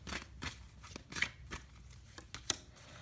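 Oracle cards drawn from a deck, heard as crisp, close papery flicks and snaps that come in irregular bursts, with one sharp snap standing out near the end, quiet and with no talking.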